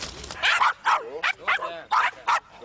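A Pumi dog gives a run of short, sharp barks and yips at close range, several in quick succession, with a person talking nearby.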